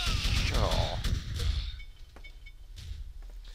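A grenade blast in the first-person shooter AssaultCube, a loud, broad burst at the start that decays over about two seconds, followed by quieter game noise and scattered faint clicks as a voice talks over it.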